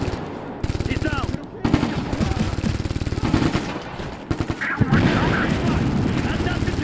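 Automatic and single gunfire in the Ghost Recon Future Soldier video game: dense bursts of rapid shots, near and loud, with brief gaps and voices calling out beneath the firing.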